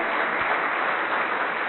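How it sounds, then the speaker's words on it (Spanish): Church congregation applauding together in a steady, dense wash of clapping that fills the whole moment without pause, loud and even, with no voices rising above it. "Dele el aplauso al Señor."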